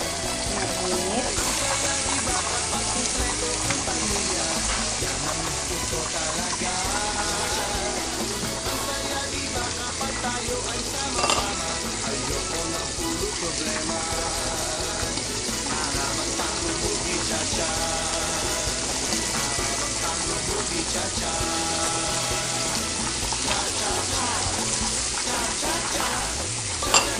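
Sliced Italian sausage fries in a hot pan toward crispness, a steady loud sizzle filling the whole stretch with occasional stirring scrapes and faint background music.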